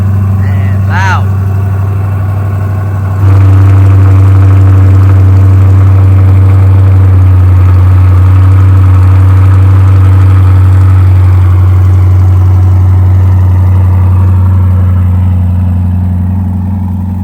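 A modified C8 Corvette engine starts and settles into a loud, steady, deep idle that drones on close by.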